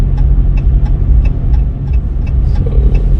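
Traffic jam noise heard from inside an RV camper on a road trip to Gulf Shores: a steady low engine and road rumble fills the cabin, with a faint, regular ticking repeating throughout and no talk.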